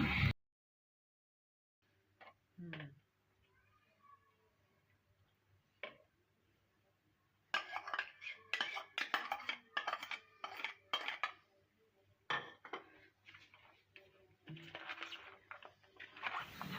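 A spoon clinks and scrapes in a bowl while vegetable salad is tossed with sauce, starting with a few sparse taps and then turning into quick, close rattling bursts of cutlery against the dish.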